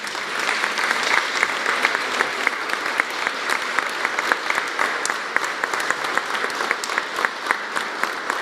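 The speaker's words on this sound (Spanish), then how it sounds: "El reconocimiento de nuestro aplauso para todos los maestros galardonados." Audience applause for award-winning teachers at a presidential press conference, sustained crowd clapping with distinct individual claps audible, moderately loud and steady throughout.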